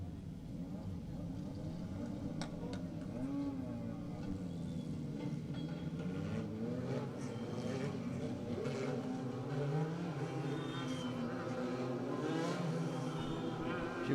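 Several race cars circling a raceway during a short heat race, a steady droning engine whine with rising and falling pitch as cars pass, heard from a distance.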